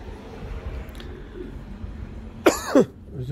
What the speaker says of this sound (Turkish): Hala öksürük tam geçmedi.